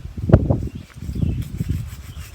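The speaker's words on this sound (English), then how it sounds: "This is the last piece I have left to sand." Sandpaper rubs over a Jeep door hinge piece in close, steady scratchy strokes, moderately loud and alone.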